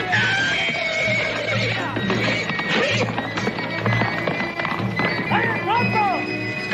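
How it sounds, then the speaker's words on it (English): A horse whinnies loudly after being shot in a Western action scene, the neigh rising out of busy scene noise and speech from men nearby. "Creo que le pegué al caballo."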